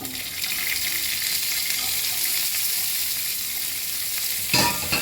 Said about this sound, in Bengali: এবার আমি পেঁয়াজ কেটে রেখেছি, একটু পেঁয়াজটা দিয়ে দিচ্ছি।